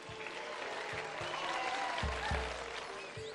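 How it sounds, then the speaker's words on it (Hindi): Applause from a studio audience for a young girl on a Pakistani TV game show, a steady broadband patter filling the whole stretch with a few low thumps beneath it. "तालियां बजाएं बच्चे के लिए"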